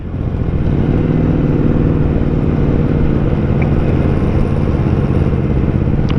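An Aprilia RSV4 sport motorcycle rumbles steadily and loudly as it is ridden into a narrow side street, a continuous close engine drone with no pauses.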